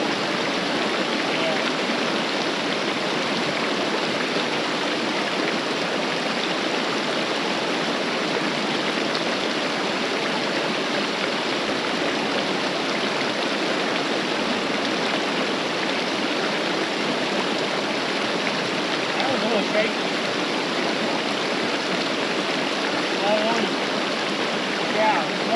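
Steady broadband rush of creek water flowing at a backcountry trail crossing in Roosevelt National Forest, Colorado, constant and close throughout with no breaks.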